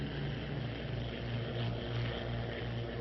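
A WWII Bell P-39 fighter plane flies in formation, its propeller engine giving a steady, even drone that sounds faint and distant throughout.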